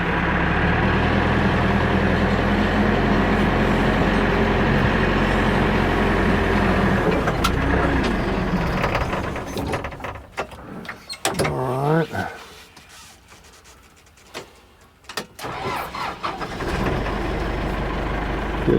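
A backhoe's diesel engine idles and works steadily, then fades into a quieter stretch of clanks, hydraulic strain and scraping while digging before the engine roars back up.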